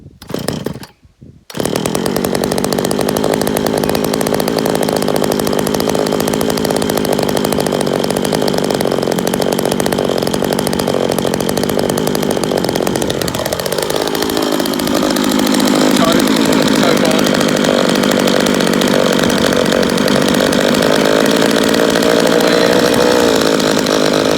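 A Dolmar 105 chainsaw engine, choke set slightly down, fires after a brief stutter and runs loud and steady near the microphone for over twenty seconds, its pitch dipping and then settling into a rougher, higher idle.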